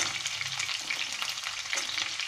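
Small quartered eggplants, ridge gourd and pointed gourd sizzle in hot oil in a pan, a winter vegetable dish with fenugreek leaves, with a steady close crackle and hiss throughout and no talking.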